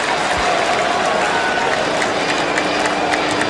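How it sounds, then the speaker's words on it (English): Cricket crowd applauding steadily as Tendulkar takes on McGrath's bowling in a Test match, a dense, continuous roar of clapping and cheering from a large stadium throughout, with no break. "Crowd loving it."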